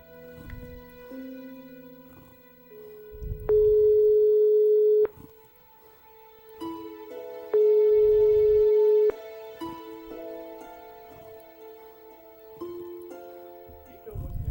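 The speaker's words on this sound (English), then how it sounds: "Nico wasn't answering her phone." An unanswered phone call in the Broken Sword 5 adventure game: a repeating electronic ringback tone sounds in long steady bursts separated by gaps, over a soft musical backdrop.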